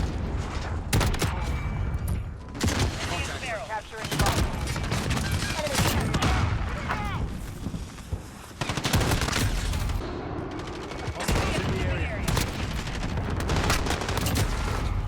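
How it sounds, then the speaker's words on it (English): Rapid gunfire in Modern Warfare with the MK2 shotgun, dense volleys of loud shots and impacts packed together with brief gaps, a voice talking over parts of the fighting. "we're popping off shots, boys"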